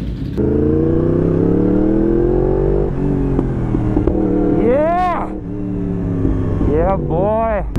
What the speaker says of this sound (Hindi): जम्मू की गलियों में R1 राइड करते हुए